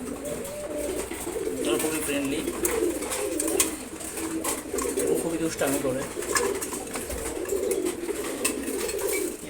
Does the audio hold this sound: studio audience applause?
no